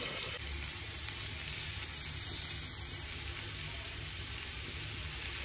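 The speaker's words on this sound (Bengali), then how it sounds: "এভাবে কিন্তু সবগুলো মিষ্টি কুমড়া আমি ভেজে নেব" Pieces of sweet pumpkin fry in oil with a faint, even, continuous sizzle, low and steady throughout with no voices.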